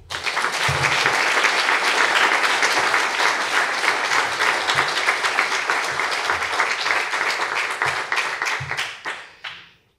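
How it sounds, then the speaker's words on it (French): Audience applause at the launch of an agricultural project, loud and dense clapping from a large crowd, sustained for several seconds before tapering off quickly at the end. "je vous demande quelques applaudissements"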